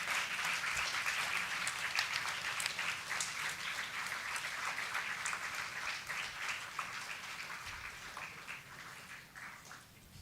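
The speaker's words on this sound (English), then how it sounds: "May I kindly request everyone to rise and give a loud round of applause" Steady broadband applause from a standing audience at a chemical engineering award ceremony, dense and continuous for about ten seconds before slowly thinning toward the end.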